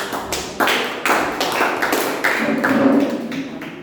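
Clapping from a small group at a Toastmasters club meeting, a handful of sharp, irregular claps that quickly settle into a short, close round of applause.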